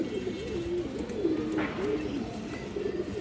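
A female pigeon of a fancy breed kept in a loft, cooing in soft repeated low phrases over a steady background hum, with faint talk nearby.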